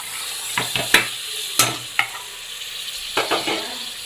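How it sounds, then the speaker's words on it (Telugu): Broad beans tossed into cooked masala in a pan, giving intermittent sharp clinks and scrapes of stirring over a soft, steady frying sizzle, with no talking. "ఇప్పుడు అంతా మసాలా మగ్గింది, మనము చిక్కుడుకాయలు వేసుకుందాం."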